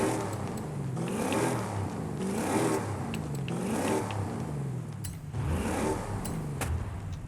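In the racing game Forza Horizon 5, a Plymouth Barracuda with a 6.2 V LS-swap engine revs up in repeated rising sweeps about every two seconds, each climbing then dropping off. It sounds loud and close with no talking.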